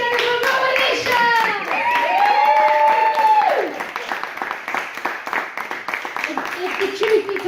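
A stand-up comedy audience claps for a performer called Coalition, dense applause mixed with cheering and shouting voices at first, thinning to scattered claps by the end.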